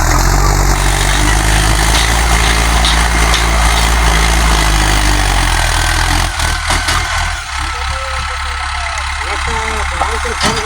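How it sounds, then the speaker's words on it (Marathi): A tractor engine runs steadily as the tractor is backed up and pulled forward into position at a sugarcane loading site, a loud continuous low rumble with voices talking over it throughout. "तर मंडळी आता आमचं ट्रॅक्टर मागं पुढी करून लावायला चालू आहे"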